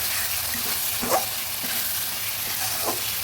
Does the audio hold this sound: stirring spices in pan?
yes